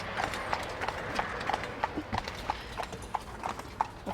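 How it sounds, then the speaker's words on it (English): A horse pulling a buggy clip-clops along outdoors at a moderate distance, its hoofbeats steady and evenly spaced over a light background hush, with no voices. "Here we've got a horse and buggy."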